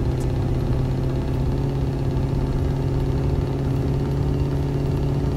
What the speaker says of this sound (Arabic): والله صوت الشكمان جامد.